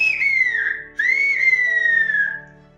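A woman whistler from Tenerife delivering a message in the island's whistled language: two loud, sustained, piercing whistled phrases with sliding pitch, a brief break between them, heard alone and close.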